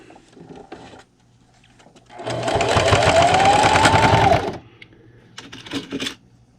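A domestic sewing machine back-stitches fabric in one continuous whirring burst of about two seconds, with brief handling clicks before and after.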